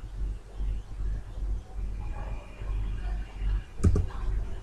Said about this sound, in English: I'll press the insert button that is on the keyboard